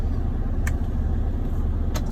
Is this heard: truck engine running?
yes